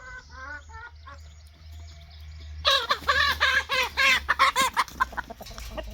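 Hens in a hen house with baby chicks cluck close by, quiet at first, then break into a loud, busy burst of overlapping clucks and squawks over a low steady hum.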